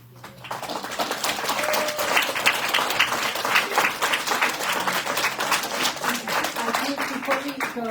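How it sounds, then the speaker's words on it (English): Sustained applause from an audience at a panel event, many hands clapping densely and evenly for several seconds after a brief lull, with faint voices mixed in beneath it. "I really want to give a big applause to this panel."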